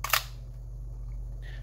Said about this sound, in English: when you go and you hit that shutter button